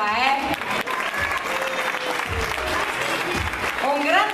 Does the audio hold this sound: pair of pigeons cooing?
no